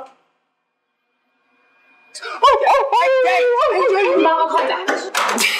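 A person imitates a wolf howl in an office, the voice rising and wavering in long drawn-out cries that start after about two seconds of silence and stay loud to the end.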